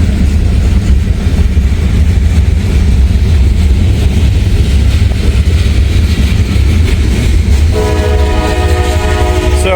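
A loaded ethanol train hauled by two Canadian National locomotives rolls past loud and close with a steady rumble and clatter of cars, then a multi-tone horn sounds near the end.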